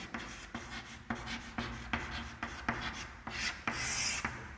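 A pen scratches tally marks on paper in a series of short, evenly spaced rasping strokes, close and clear, with no talking.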